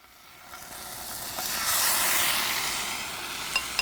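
Raw fish frying in a hot pan, a steady broad sizzle that swells and holds over a few seconds with a couple of sharp pops near the end, close and fairly quiet with no talking.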